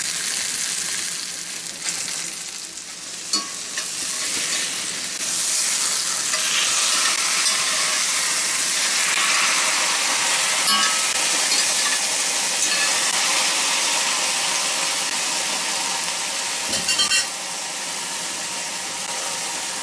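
Portobello mushrooms sizzle and fry in a hot cast iron skillet, a loud, steady hiss that runs throughout with a few brief pops and stirring clinks, close up and with no talking.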